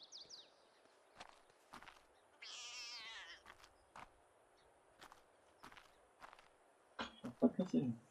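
A domestic cat gives one drawn-out, wavering meow near the middle, set among scattered sharp clicks and taps. A voice murmurs briefly near the end. The room is otherwise quiet.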